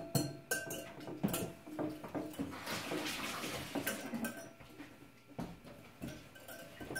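Ingredients for homemade vanilla ice cream are mixed in a bowl, giving continuous clinking and scraping of utensil against dish with scattered sharper knocks, close and moderately loud, with no talk.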